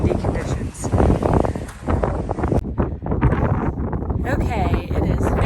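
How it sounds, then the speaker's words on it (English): Strong gusts sweep a high mountain trail camp on Mt. Whitney in June, roaring and buffeting the microphone in uneven surges that rise and drop, with a brief lull partway through. "very, very windy conditions."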